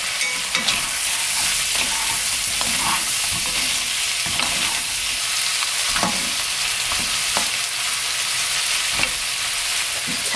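Abalone and shrimp cook in a covered pan over low heat, with a steady, even sizzle and frying crackle throughout and occasional small pops and clinks close by.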